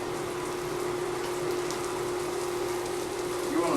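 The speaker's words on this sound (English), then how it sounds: "Ready to add these good old mushrooms. Saute these bad boys up." Mushrooms sautéing in a hot pan on a home stove, a steady close hiss and sizzle with constant crackle and no talk.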